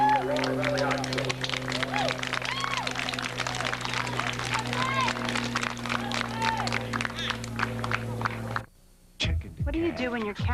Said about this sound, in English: as we applaud your years of play at Walker Valley High School